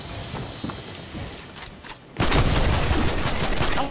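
Gunfire in Fortnite, with a shotgun and an assault rifle in play, comes as a few scattered shots, then a dense, loud burst of rapid fire in the second half.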